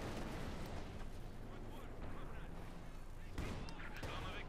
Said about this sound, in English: Every shot bounces or misses the T-34